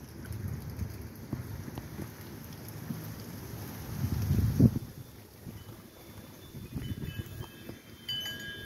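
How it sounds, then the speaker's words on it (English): Wind gusting steadily outdoors in a backyard garden, a broad low rumble that swells to a loud buffet midway, with faint chimes and distant street noise underneath. "Quite windy today, so I apologize for all the wind chimes and street noises."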